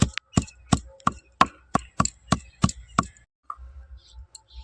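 Leaves of a medicinal plant pounded on a flat grinding stone with a stone pestle: about nine sharp, evenly spaced thuds in a steady rhythm, close and loud, then a few softer knocks.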